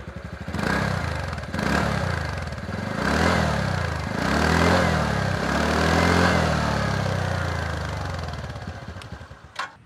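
A TVS Ntorq 125 scooter with a chrome-finished exhaust is revved up close in about five rising blips, each climbing and falling back, before settling and cutting off near the end.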